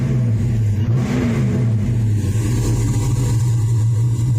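A Chevy S10 pickup with a 383 stroker engine idles loud and steady up close, with a low droning rumble and a slight rise in revs partway through.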